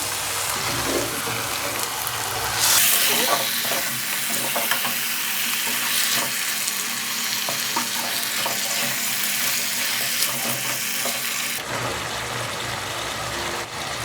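Green chili chicken from Bukittinggi, West Sumatra, is stirred in a frying pan, giving a continuous sizzle with repeated scraping and clacking of the spatula and a brief shift in tone near the end.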